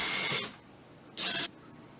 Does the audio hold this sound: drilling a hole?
yes